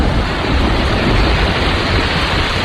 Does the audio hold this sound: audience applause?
no